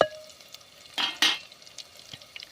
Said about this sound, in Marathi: लसूण चांगला आपल्याला तडतडून द्यायचा लालसर रंगावरती